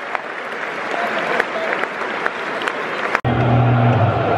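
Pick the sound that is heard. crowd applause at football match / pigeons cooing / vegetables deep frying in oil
crowd applause at football match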